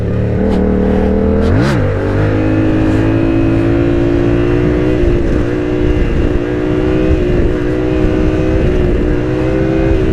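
A Yamaha R7 motorcycle revs hard and pulls through the gears, its engine note climbing and dropping at each shift and then holding a loud, steady drone close by.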